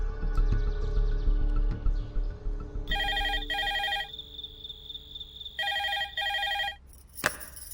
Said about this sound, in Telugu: నేను మీకు ఫోన్ చేశాను.